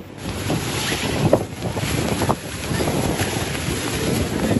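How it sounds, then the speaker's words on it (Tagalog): Strong wind buffets the microphone along Manila Bay during stormy weather, with waves crashing against the seawall beneath a steady roaring rush, loud and close throughout. "malakas pa rin ang hangin at alon sa Maynila."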